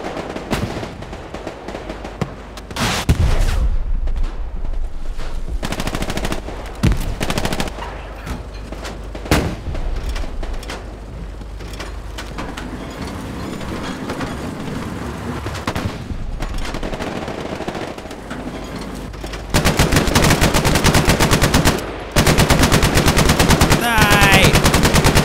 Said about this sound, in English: Give us some suppressing fire.